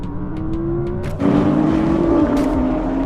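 A new Porsche 911 accelerates in a drag race, a loud steady engine drone that shifts once and then keeps rising in pitch, with no talk.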